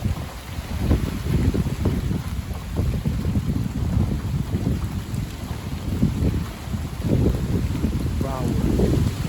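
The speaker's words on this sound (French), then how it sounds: "Ça souffle même à 60 maintenant." Strong storm wind from Storm Darragh roars and buffets the microphone in a steady, heavy rush with surging gusts, while a person talks over it intermittently.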